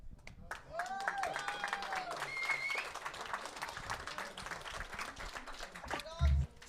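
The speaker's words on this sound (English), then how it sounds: "A little bit of a crowd pop. I heard that one." A crowd in a venue at an Arizona interscholastic state championship cheers and applauds, with sustained clapping and scattered shouts and whistles throughout. A sharp thump cuts in near the end.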